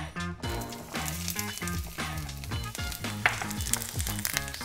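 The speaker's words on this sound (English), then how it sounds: "I'm gonna add our onions." Onions sizzling as they fry in hot oil while vegetables are sautéed for a spicy mushroom rundown, with a steady broadband crackle and occasional stirring clatter throughout, close and moderately loud, no talk.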